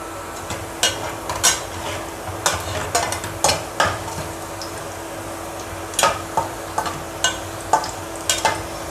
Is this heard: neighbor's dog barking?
no